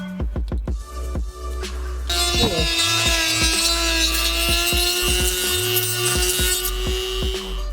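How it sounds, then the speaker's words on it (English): A high-pitched Dremel rotary tool grinds through plastic trim on a Honda Prelude steadily for several seconds after a few sharp knocks and scrapes, loud and close. "we're going to use a Dremel to go ahead and clean it up and just make one big hole"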